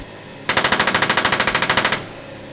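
A machine gun fires a rapid automatic burst of about fifteen evenly spaced, loud close shots lasting roughly a second and a half, with no voices.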